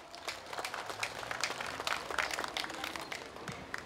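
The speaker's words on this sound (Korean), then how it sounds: "박수 한번 쳐주세요" Applause from an audience, a steady patter of many hands clapping that holds at an even level throughout.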